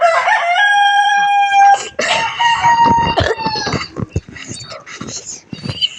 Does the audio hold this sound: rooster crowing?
yes